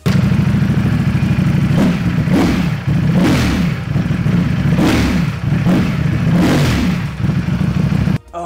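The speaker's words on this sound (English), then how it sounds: "here's a clip of the stock exhaust with the valves open" Loud Ducati Panigale V4 engine revving repeatedly through the stock exhaust with valves open, sharp throttle blips rising and falling in a rhythmic pattern, recorded up close from the exhaust.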